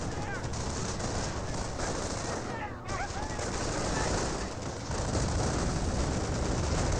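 Sustained gunfire in the Company of Heroes 1 game aimed at Knight's Cross holders, dense machine-gun bursts and rattling shots continuing throughout with a constant battle din.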